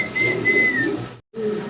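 A pigeon at a bird market gives a short whistling coo that slides slightly downward, followed after a brief silence by another soft coo, close and clear with no talking.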